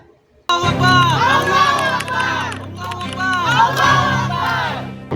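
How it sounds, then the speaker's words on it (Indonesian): A large crowd yells a loud, sustained battle cry, many voices shouting together in two long surging waves. "Tiba-tiba, terdengar suara teriakan yang membara."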